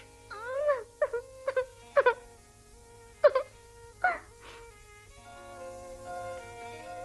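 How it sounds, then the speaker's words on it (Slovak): A fairy wails and cries beside a frozen well in a Slovak children's bedtime cartoon, a series of rising and falling moaning cries with sliding pitch, loud and near, then trailing into softer sustained tones. "Prečo plačeš?"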